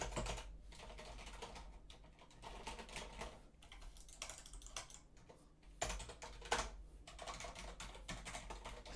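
Computer keyboard keys pressed steadily while playing a voxel diorama game with WASD controls, a continuous run of close, clicky taps with small pauses, no speech.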